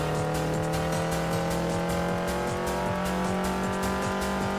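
Racing car accelerating from the start in Assoluto Racing with automatic transmission, engine tone climbing steadily in a continuous loud drone with rhythmic gear-like pulses, no talk over it.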